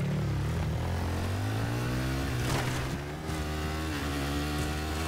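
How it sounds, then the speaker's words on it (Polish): A motorcycle engine in Battlefield 3 drones steadily close by, its pitch rising gently as it accelerates, a continuous buzzing revving with no break. "Jedziemy motorem, co?"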